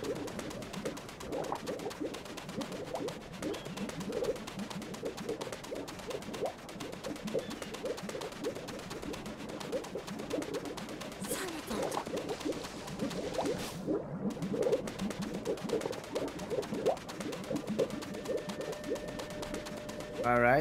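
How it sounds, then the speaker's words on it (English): Soft cooing bird calls in the Sand Kingdom of Super Mario Odyssey repeat faintly over a steady game ambience, with a whoosh near the middle and quiet talk at times. "All right, the bird is gone again"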